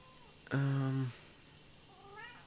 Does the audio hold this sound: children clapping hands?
no